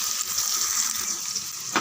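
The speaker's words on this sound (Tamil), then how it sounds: "உளுத்தம் பருப்பு, பட்டை, கிராம்பு நல்லா பொரியட்டும்" Urad dal, cinnamon and cloves fry in hot oil for mutton kuzhambu, giving a close, even crackling sizzle throughout, with no voices.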